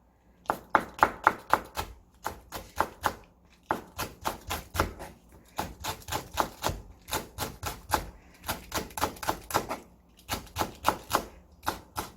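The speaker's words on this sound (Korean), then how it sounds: "청양고추도 반 갈라주셔서 쫑쫑쫑 썰어주셔야 돼요." A knife chops Cheongyang chili peppers on a cutting board in a home kitchen, a steady run of close, crisp taps in short rhythmic bursts with brief pauses between them.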